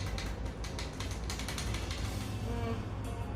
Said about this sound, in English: I put this easy wheels, but now they're making some noise.